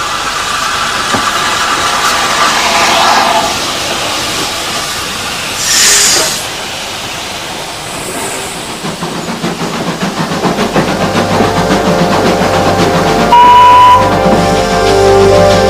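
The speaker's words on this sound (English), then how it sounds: "I love the power and the noise of the engine and the smell." Old heritage steam train engine running with a steady broad hiss and rumble, a brief louder steam burst partway through, and a whistle-like tone near the end, fairly loud and close with no talking.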